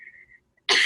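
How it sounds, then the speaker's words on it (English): A person gives a single sharp cough, loud and close, after a brief faint tone and a moment of near silence. "I'm gonna cough"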